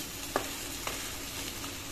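A soybean, potato and banana flower curry is stirred in a pan over a steady sizzle, with two soft scrapes of the spoon standing out against the frying.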